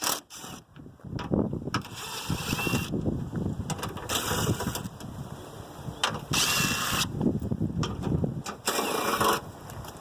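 A ratchet working loose 10mm bolts from the plastic top cover of a 2008-2012 Chevy Malibu, heard as bursts of dense mechanical clicking and scraping close by, with breaks between runs.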